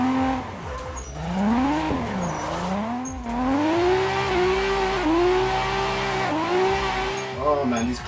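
Drifting car in Assetto Corsa on the Forest Park track, with engine revs rising and falling through repeated clutch kicks and faint tire squeal, while someone talks over it.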